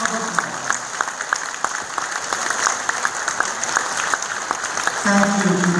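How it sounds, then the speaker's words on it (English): Audience applause at a national convention of the Gideons International, a steady wash of many hands clapping throughout, with a voice starting to speak over it near the end. "Let's give them a big round of applause."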